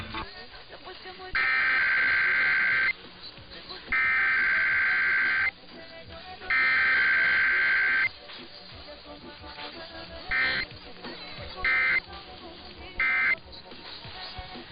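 A Pittsburgh station's Emergency Alert System required weekly test plays harsh, loud electronic alert tones in three long bursts, then a few short beeps, with an announcer talking between them.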